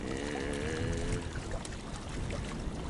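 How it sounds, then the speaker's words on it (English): A trolling motor runs steadily on a fishing boat against a current, giving a continuous low hum with a faint whine and some water wash, close by, with no talking. "I'm still on number 1 with the trolling motor because of the current."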